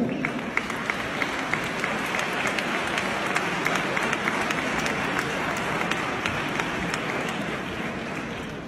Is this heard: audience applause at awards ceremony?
yes